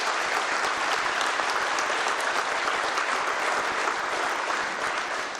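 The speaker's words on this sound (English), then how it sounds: "Please give a round of applause for Derek Sheffield." Sustained, dense audience applause at a state legislature joint session honoring the poet laureate Derek Sheffield, steady and full throughout without voices.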